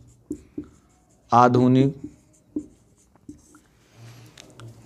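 Chalk or marker writing on a board during a Hindi lesson, short scratchy strokes in brief bursts around someone speaking.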